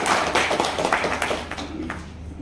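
Audience applause at an Advantage Maharashtra Expo 2026 press conference in Sambhajinagar: a burst of many hands clapping close by, dense at first and thinning out toward the end.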